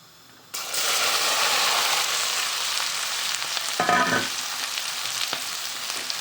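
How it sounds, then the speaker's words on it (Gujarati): Mustard seeds hit hot oil for an okra dish, and a loud, close sizzle jumps up at once, then holds as a dense, steady hiss with a brief louder bubbling flare partway through, with no talking. "રાઈ છૂટે પછી નાખવાની જોઈએ પછી નાખવાના ભીંડા"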